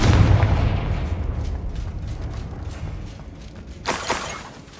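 A Confringo blasting spell bursts in Hogwarts Legacy with a loud, close boom and rumbling debris that fades over several seconds, followed by a sharp crackling impact near the end, with no talking.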